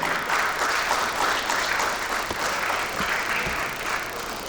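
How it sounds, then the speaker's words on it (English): Sustained applause from an audience at the UNESCO Intergovernmental Hydrological Programme 50th anniversary event, a dense, steady wash of many hands clapping throughout, fading slightly near the end. "And please, another round of applause."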